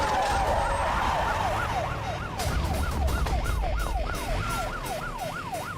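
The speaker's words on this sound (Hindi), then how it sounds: "ये तो पुलिस का सायरन है।" A wailing ambulance siren rises and falls rapidly and steadily, loud and nearby over background traffic noise, in a Hindi-dubbed film.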